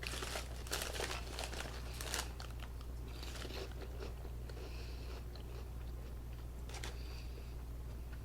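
Close crunching of a light, fluffy chip like a pork rind, a few sharp crackling bites followed by quieter chewing crunches over a low steady background hum.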